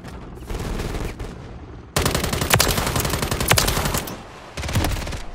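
Video game gunfire in rapid automatic bursts, loud and close, with a short break before a long dense burst and one more burst near the end, with no voices.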